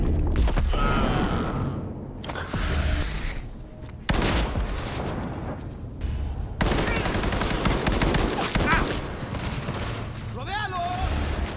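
Full-auto gunfire in the video game Cyberpunk 2077 comes in loud, dense bursts with short gaps, mixed with mechanical clanks and a brief vocal sigh.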